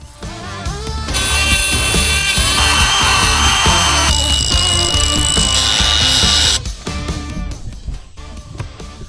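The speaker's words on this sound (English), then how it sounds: "I had to grind down at least the top to make it fit just a little bit." Power tool grinding down the top of a fire hydrant part so it fits, a loud, steady high-pitched whine running several seconds before cutting off, with scraping tool noise around it.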